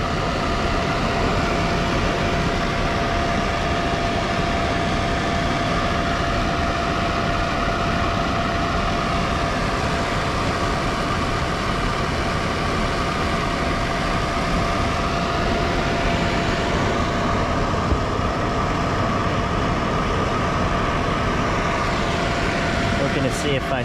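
An old Rheem furnace running with a fault noise, a loud steady rumbling drone with a constant tonal hum throughout, up close.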